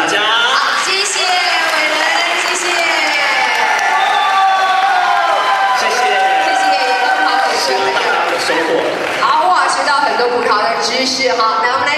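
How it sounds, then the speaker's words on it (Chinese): An audience at a grape princess and knight pageant applauds and cheers loudly and continuously, with whoops and shouting voices mixed into the dense crowd noise. "掌声，谢谢大家"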